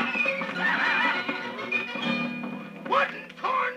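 A horse whinnies with a drawn-out, wavering neigh, mixed with pig, chicken and cow calls and a voice, all close and fairly loud, in a 1950 cartoon recording.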